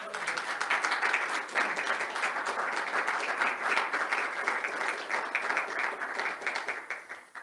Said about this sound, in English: So I think all of those deserve a round of applause.